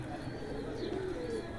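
Racing pigeons coo softly in a low, rolling call, a single drawn-out coo rising over steady background noise with a faint voice nearby.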